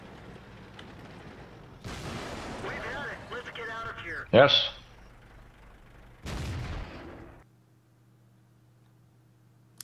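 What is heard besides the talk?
KV-2 tank derp cannon firing in a tank video game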